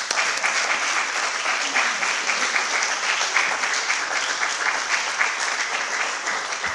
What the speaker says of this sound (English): Please join me in welcoming Anne Marie to the podium with a warm round of applause.